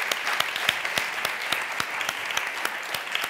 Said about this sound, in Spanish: Un aplauso a todos y muchísimas gracias